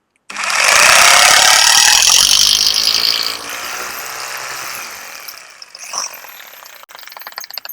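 A handheld hammer drill machine bores a hole into a wall with a loud, harsh grinding roar for about three seconds, then settles into a quieter drilling whir before slowing and stopping.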